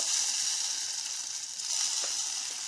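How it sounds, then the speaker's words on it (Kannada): Hot tempering with garlic, coriander leaves and dried red chillies hits a pot of goddu saaru, giving a steady bright sizzle and crackle that holds close and fairly loud for a few seconds with no voices. "ಈಗ ಇದಕ್ಕೆ ಒಗ್ಗರಣೆನ ಹಾಕ್ಕೊಂಡ್ಬಿಡೋಣ."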